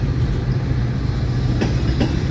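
A loaded FEC freight train hauling rock cars rolls past in St. Augustine, Florida, with a steady low rumble and rail noise and a couple of faint clicks. Nearby and continuous, no one talking.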